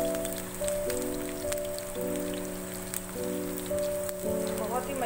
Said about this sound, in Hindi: ऑयल में फ्राई करेंगे इनको।